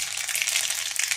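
Mustard seeds and cumin crackling in hot oil in a pan, a steady close hiss with dense spitting pops throughout and no voices.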